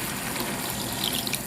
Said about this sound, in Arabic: نضيف بقى عليها نص كوباية مية